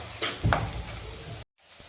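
Chillies and turmeric sautéing in a pan, a soft steady sizzle with a couple of stirring scrapes up close, briefly cutting out near the end.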